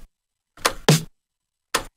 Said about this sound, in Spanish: que este es el sonido de contratiempo que siempre le ponen al dembow